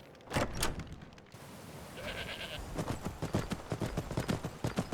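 Rhythmic hoof clip-clops of horses in Skyrim Anniversary Edition thud steadily in the second half, with a brief high bleat-like animal call and some breathy noise earlier; no speech.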